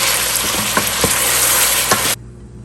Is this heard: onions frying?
yes